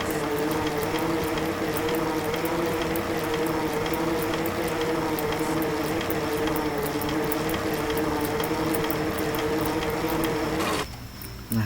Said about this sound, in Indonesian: Nanti kalian berhenti saat kalian mendengar suara kayak berdengung kayak gini lah.